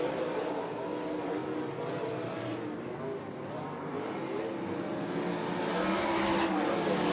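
USAC race cars roar around the dirt oval at Mohave Valley Raceway during the Western World event, a steady, dense engine drone from the pack that holds constant at moderate distance and swells slightly near the end.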